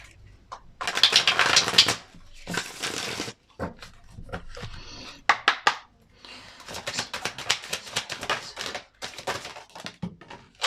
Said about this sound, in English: Let's give these a good shuffle.